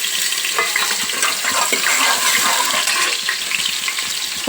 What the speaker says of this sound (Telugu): ఉల్లిపాయ మంచిగా గోల్డెన్ బ్రౌన్ కలర్కి వేగింది కదా.